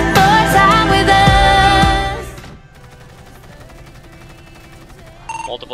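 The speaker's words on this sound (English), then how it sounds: "Multiple shots being fired from inside of the bank." Rapid gunfire rattles inside a bank in the game GTA FiveM, a loud dense burst of shots layered with ringing tones for about two seconds, then a quieter stretch with faint background hum and a short return of noise at the end.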